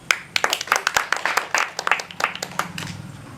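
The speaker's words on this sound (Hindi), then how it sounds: "ताली मारो।" Hands clap in a quick, uneven series of sharp, close claps during a staged wedding scene in a Maithili comedy sketch.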